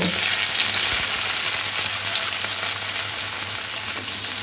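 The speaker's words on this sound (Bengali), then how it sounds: "একটু নাড়াচাড়া করে ভেজে নেব।" Onion frying in hot oil with a dried red chili, nigella seeds and crushed garlic, a loud, steady sizzle close to the pan with faint stirring scrapes, no talking.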